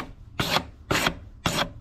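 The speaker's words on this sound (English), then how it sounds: "use a little sanding block just to take off the burr that the sander had" Three separate rasping strokes of a sanding block scraping a burr off a vintage silver-on-black metal car registration plate, evenly spaced and close up, with quiet gaps between them.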